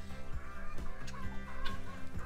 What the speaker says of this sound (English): Good old Mr. Rooster, I can remember he took off